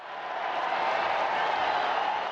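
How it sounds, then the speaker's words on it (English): A large crowd cheering and applauding in St. Peter's Square, a broad sustained roar of clapping and voices that swells slightly and holds steady. "Cheers of jubilation and applause rose with it above St. Peter's Square"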